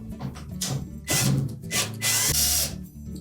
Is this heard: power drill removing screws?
yes